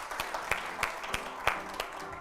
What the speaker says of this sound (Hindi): ये तालियों के हकदार हैं भाई